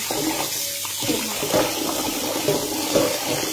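Water runs from a tap in a steady splashing stream over a pork leg being washed for cooking, close and fairly loud with small irregular splashes.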